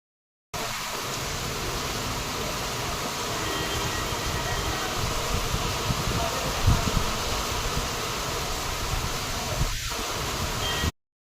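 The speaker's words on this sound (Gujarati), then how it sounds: "ફૂલ પવન વરસાદ છે." Strong wind and heavy rain during a storm in Amreli make a dense, steady roaring hiss close to the microphone, unbroken for about ten seconds with occasional faint gusts and rustles.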